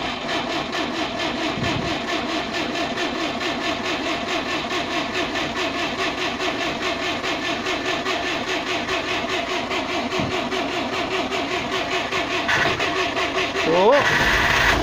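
An old FSC Żuk one-ton truck cranks with a newly replaced starter, a long rhythmic grinding churn that keeps going before the engine catches and revs up near the end, with voices over it.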